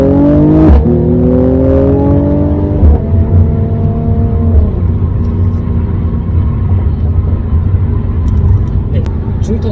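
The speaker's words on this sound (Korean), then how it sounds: "중통을 해서 인증까지 마친 상태이기 때문에 생각보다 백프레셔가 강하게 터지는 것을 느낄 수가 있습니다" A Mercedes-AMG C43 Coupe in Sport Plus mode on a wet, rainy road revs and falls off loudly, and its exhaust gives rumbling backpressure pops. A voice talks over much of the engine noise.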